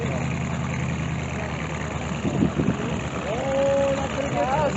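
A Versatile 460 tractor engine runs in third gear with a steady low rumble and a slight lift partway through, while people talk nearby.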